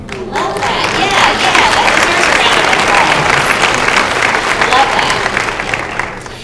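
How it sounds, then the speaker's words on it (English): Sustained applause from a live audience, loud and dense throughout with a faint murmur of crowd noise underneath. "That deserves a round of applause."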